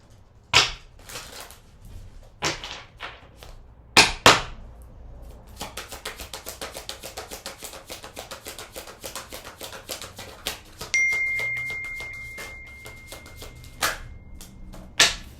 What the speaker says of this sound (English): Let's do 2 more shuffles here.